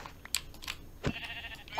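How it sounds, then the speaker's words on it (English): Sheep bleating in the video game Minecraft, a couple of short bleats mixed with clicks and small game sounds, fairly quiet and brief. "This sheep is dying for no reason"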